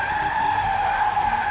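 A car's tires screech in a sustained skid as it fails to brake, a loud, steady high squeal staged as a sound effect for a Playmobil toy car crash.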